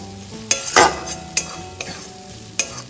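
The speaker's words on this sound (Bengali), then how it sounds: "জিরে গুঁড়ো মরিচ গুঁড়োটাও তেলে হালকা একটু নাড়াচাড়া করে নেবো" Ground cumin and black pepper powder being stirred in hot oil, a soft sizzle broken by several sharp scrapes and clinks of the spoon against the pan, close and clear with no talk.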